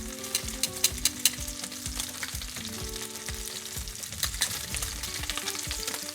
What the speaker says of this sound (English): Crank that pan up on high, because we're gonna sear hard and fast here